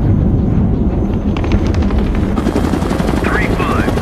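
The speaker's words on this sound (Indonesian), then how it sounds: "terhalang oleh suara helikopter" Loud, continuous rotor roar of a helicopter dominating the scene, with low chopping rumble throughout and faint higher chirps near the end.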